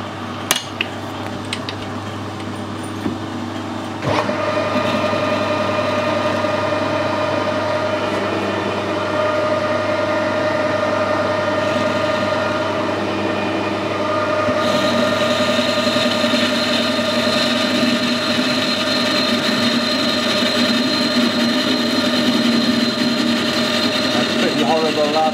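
Lathe boring a hole through welded aluminium with a rigid boring bar, a steady loud machining drone with tonal whine that begins after a few seconds and keeps running continuously to the end, with a slight shift partway through.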